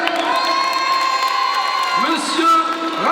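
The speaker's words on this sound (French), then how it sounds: "J'aimerais bien un tonnerre d'applaudissements" A festival crowd cheers and applauds at a stage event, a steady roar of clapping and whoops lasting about three seconds, with a few louder shouts and voices rising near the end.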